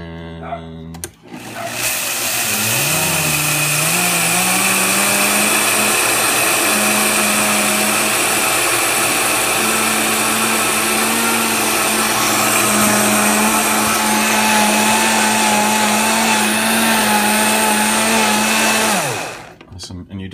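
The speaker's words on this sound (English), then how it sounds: "put it in Vitamix or blender, whichever you've got." A blender grinding flax seeds roars loudly and steadily for about eighteen seconds after a brief start-up whine, then winds down at the end.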